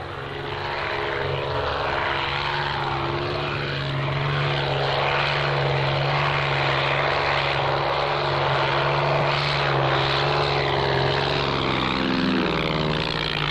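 A propeller aircraft flying an aerial pest-control run over the Amazon rainforest, a loud, continuous, droning engine with a steady low hum that holds throughout and shifts slightly in pitch near the end.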